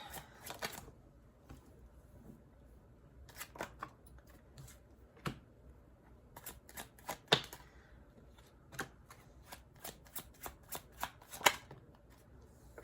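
Tarot cards are shuffled in close, crisp bursts of riffling and flicking, with quick clustered snaps separated by short quiet gaps, near and fairly soft, with no talk.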